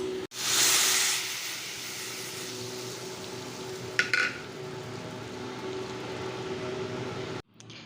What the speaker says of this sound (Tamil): இப்போ வந்து இதை வதக்கி போட்டோம்